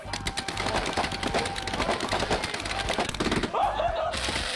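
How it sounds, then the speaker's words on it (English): Consumer fireworks going off in a rapid, dense barrage of crackling bangs, loud and continuous, with a brief lull near the end before another burst. "I just bought random fireworks. I didn't know they were that crazy."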